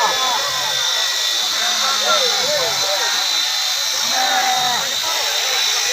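A steady, loud mechanical whine and buzz from an electric sheep shearing machine runs throughout while a person talks over it.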